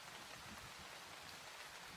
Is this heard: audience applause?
no